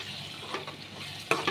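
A spoon stirs chili powder into softened, sizzling tomatoes in a pan for a fish curry, with scraping strokes over a steady frying hiss and a louder stir near the end.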